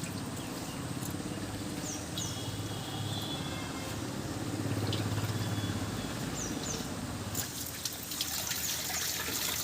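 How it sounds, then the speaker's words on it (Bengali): Taro leaves are rinsed under a running kitchen tap, making a quiet, steady stream of flowing and splashing water with faint trickles and handling noises up close. "এবার একবার কলের জল দিয়ে ভালো করে ধুয়ে নেব"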